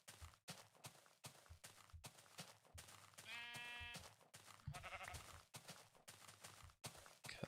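A sheep in the Minecraft video game gives a clear harmonic bleat, followed by a second, fainter one. Blocky footstep clops and other game noises surround the bleats.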